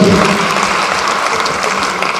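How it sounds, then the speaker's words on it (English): An audience at a fundraising launch event gives a round of applause, a loud, dense and continuous clapping that fills the room from start to finish. "just a round of applause for him, ladies and gentlemen"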